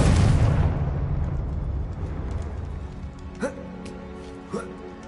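A Confringo explosion spell in a video game erupts as a loud, dense blast that fades into a rumbling tail, with two short, sharp pops following a few seconds later.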